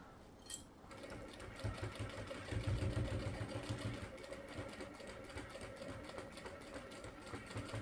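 A sewing machine stitching a fabric iron caddy runs with a fast, even mechanical whir and needle clatter, briefly surging in speed for a back stitch before settling into a steady run.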